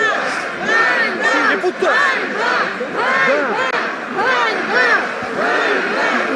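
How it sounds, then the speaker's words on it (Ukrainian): A protest crowd chants loudly in rhythmic waves of shouted voices outside the fenced Verkhovna Rada parliament building, the chant of "shame" rising and falling continuously and close by. "Зараз скандують люди вигуки ганьба"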